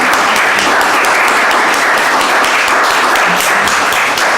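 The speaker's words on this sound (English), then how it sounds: "May I just ask everybody to have a round of applause for our two speakers today?" An audience at a public forum on gambling gives a loud, sustained round of applause for two speakers. The dense clapping stays steady throughout without any voices.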